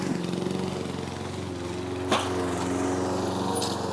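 Lawn mower engine with a repaired governor running steadily at its set RPM, a continuous close, even drone with a brief sharper click partway through.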